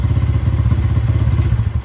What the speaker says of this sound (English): I'm gonna keep revving that if I leave it running.